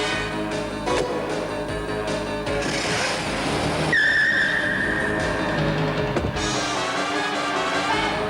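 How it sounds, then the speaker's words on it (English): In a 1980s Metro car advert, busy city traffic roars in a dense, continuous wash of engines, and partway through a car's tyres squeal in a sharp skid. "You weren't kidding about the traffic, Batman"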